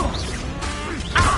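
Confringo blasting spell cast in the Hogwarts Legacy video game, a short burst of whooshing magic over a dense game soundscape, with a louder crashing impact near the end.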